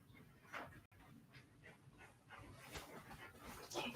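A dog whining and panting at a cracked-open door indoors, with faint, intermittent whimpers and breathy pants at low level, close by and unaccompanied by talk.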